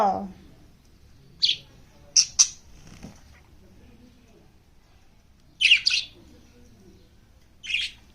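A pet bird giving several short, bright chirps and calls in separate bursts over a quiet room, close and clear, with faint background noises between calls.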